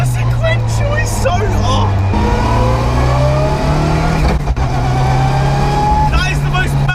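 A Mitsubishi Evo 6 rally car with a sequential gearbox drones loudly under load, with a sharp gear change partway through and the engine note climbing again, while a person talks over it inside the cabin.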